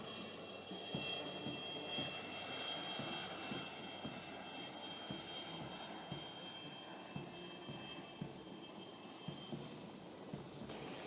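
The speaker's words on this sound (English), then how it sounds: "The Chetaks are versatile, lightweight, multi-role helicopters" A steady, droning helicopter engine roar fills the air continuously, fairly loud and unbroken, as Chetak helicopters pass overhead in formation during a navy day flypast.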